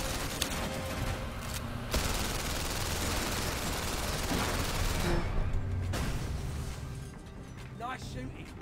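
Sustained rapid gunfire from a PlayStation VR shooter video game, dense volleys of shots rattling continuously and loudly, with brief shifts in intensity and a player's voice occasionally under the shooting.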